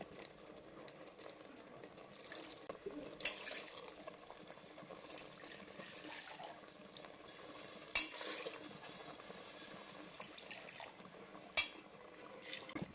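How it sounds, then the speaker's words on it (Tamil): Quiet sloshing and stirring as water is mixed into cauliflower gravy in a pan, with occasional soft clinks of a utensil against the side. "தேவையான அளவு இப்போ அது கூட தண்ணி கொஞ்சமாக மிக்ஸ் பண்ணிக்கலாங்க."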